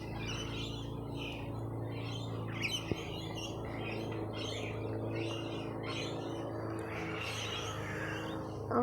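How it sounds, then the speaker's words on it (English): Birds chirp and tweet repeatedly outdoors, bright overlapping calls over a steady low hum of background noise, fairly clear throughout. "You can hear the birds too."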